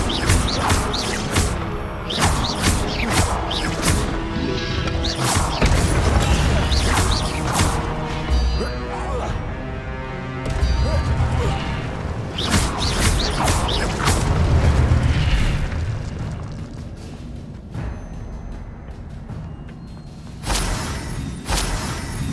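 Fiery Confringo spell blasts in Hogwarts Legacy, a series of loud crashing booms and crackling impacts amid clattering mechanical game effects, with repeated bursts and a busy, dense battle texture throughout.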